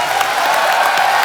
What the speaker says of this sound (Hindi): इरफान भाई के लिए जोरदार तालियां।